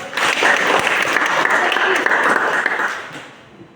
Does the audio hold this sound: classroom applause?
yes